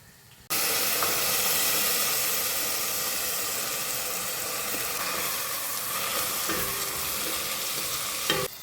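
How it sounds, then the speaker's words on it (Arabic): Rice frying in a pan at home, giving a steady, close sizzle with faint stirring scrapes that continues without pause after a brief quiet start. "راح نزيد الرز ونخليه هو ثاني يتقلى شويه"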